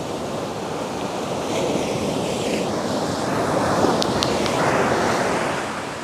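Ocean waves wash steadily onto a beach, a continuous loud roar of surf with gusts of wind buffeting the microphone and no talking.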